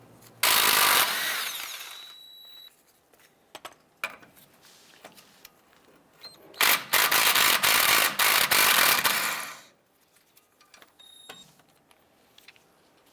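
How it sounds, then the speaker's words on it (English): A 21mm socket on a ratchet works loose the caliper bracket bolts of a 2003-2012 Chevy Colorado, two loud bursts of rapid clicking ratcheting separated by quieter handling clanks, close up. "Using a 21mm socket, we're going to remove this bolt here and this bolt here"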